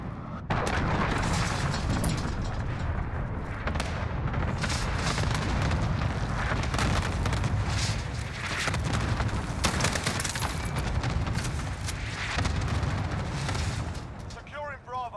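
A cluster strike in a military shooter video game pounds the area with continuous rumbling explosions and overlapping booms that last for many seconds, while voices talk over the barrage.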